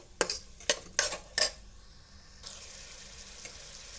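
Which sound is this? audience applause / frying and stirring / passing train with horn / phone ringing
frying and stirring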